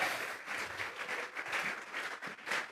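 A church congregation breaks into sustained applause, a dense wash of clapping from many hands heard at a moderate distance, steady for a few seconds with no talk.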